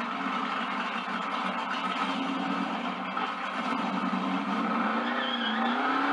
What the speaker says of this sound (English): Let's kill them tires some more.